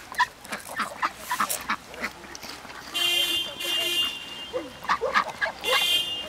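Ducks quack and honk close by at Lake Beletsi while being fed, in a scattered series of calls, while people talk in between.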